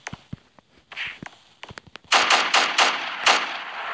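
AK rifle gunfire in Roblox Prison Life, a few scattered single shots and footsteps at first, then a loud rapid automatic burst of close shots.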